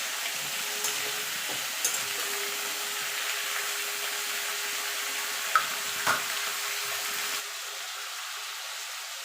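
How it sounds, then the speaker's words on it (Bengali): Malabar spinach sizzles as it fries in a pan, salted and stirred for a couple of minutes during a home vegetarian curry. A soft, steady sizzle runs alone with a few light clinks of stirring, then quietens near the end. "নুন দিয়ে সবজিটা ঢাকা দিয়ে মিনিট দুয়েক একটু নাড়াচাড়া করে ভাজা ভাজা করে নেব।"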